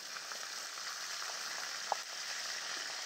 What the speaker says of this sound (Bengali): কড়াইতে 5 ফোড়ন দিয়ে তার ভিতরে তেজপাতা আর কয়টা কাঁচা লঙ্কা দিয়ে